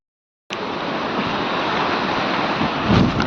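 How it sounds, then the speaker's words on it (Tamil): Strong wind on the Velliyangiri hills starts abruptly and roars as a continuous, loud, broadband rush buffeting the microphone, swelling slightly near the end. "காற்று வந்து செம்ம காற்று அடிக்குது."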